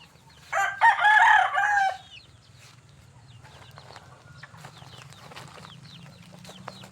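A rooster crows once loudly and close, then hens cluck and chatter softly over a low farmyard hum among bull stags and young chickens.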